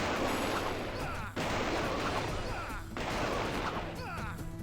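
Rifle gunfire from a barrage in the strategy game America crackles in dense overlapping volleys, loud and continuous with brief dips between bursts, and no voices over it.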